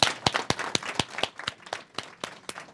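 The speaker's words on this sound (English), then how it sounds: "So we need to clap and give them a little hand." An elementary school audience claps, a sparse sequence of sharp, distinct hand claps at a moderate distance, fairly quiet and irregular in rhythm.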